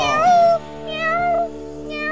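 A person imitates a cat with high, drawn-out meows, two or three whiny calls close to the mic with short pauses between them.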